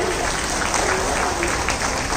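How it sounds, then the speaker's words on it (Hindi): A crowd at a public gathering claps loudly and steadily, a thick wash of applause that holds its level from start to end. "एक बार जोरदार तालियां वी द पीपल और इन सारी संस्थाओं के लिए"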